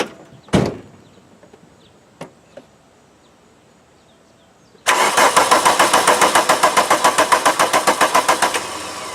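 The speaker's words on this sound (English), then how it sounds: "now you're going to go in the car and start cranking it" A diesel car engine cranks on the starter while its fuel system is bled, a fast, loud rhythmic churning that runs without catching. Earlier, a sharp door-like thunk and a few faint clicks sound in near silence.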